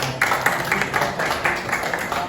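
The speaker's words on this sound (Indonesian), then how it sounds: "Yuk kita beri tepuk buat kelompok 1" An audience applauds a student group in a classroom presentation, a steady mid-level patter of many hands clapping with rhythmic surges, no talking over it.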